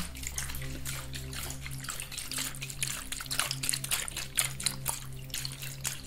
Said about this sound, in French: vaporiser de l'eau, d'accord, un petit peu partout